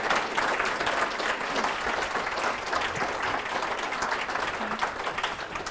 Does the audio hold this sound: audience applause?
yes